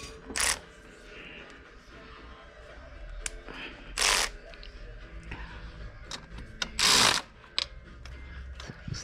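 Ratchet tightening nuts on a 2004 Nissan Sentra engine, a few short bursts of clicking, close and crisp, separated by quieter handling noises.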